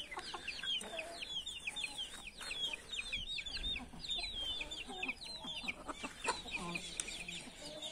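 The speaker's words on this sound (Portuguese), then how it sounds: "É um galo muito bonito também" A rooster clucking outdoors among other fowl, quick repeated clucks and calls in irregular bursts over a busy farmyard background, with some faint voices nearby.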